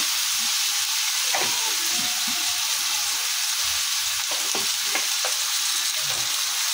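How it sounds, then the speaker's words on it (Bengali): Spices with turmeric and chili powder sauté in hot oil with a loud, dense, continuous sizzle and hiss, heard close, with intermittent stirring scrapes and no voices. "একটু ভালো মতো কষাই নিই।"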